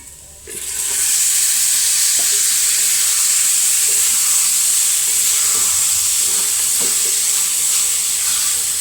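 Dried chilies frying in a hot pan for upma give a loud, steady sizzle and hiss that starts abruptly and holds throughout, with a few faint stirring clicks underneath and no talking.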